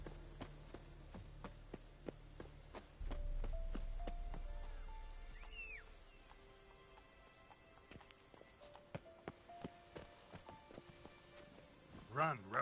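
Hoofbeats of Roach, the horse in The Witcher video game, clop along in uneven bursts while game sounds and a low rumble fill the scene, with a short whooshing burst near the end.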